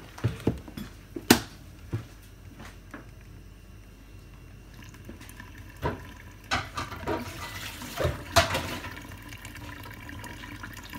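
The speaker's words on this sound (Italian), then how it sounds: "mettiamo anche una bella parte di acqua, non tutta però" Water is poured into a bowl of pizza dough ingredients, with scattered splashes and pours at moderate distance.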